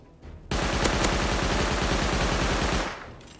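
Loud, close gunfire in the survival game Rust rattles out as one sustained burst of fast, evenly spaced shots lasting a few seconds, then cuts off, with no voices over it.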